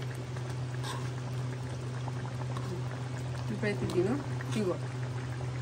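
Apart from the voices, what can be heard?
chicken curry boiling in a pot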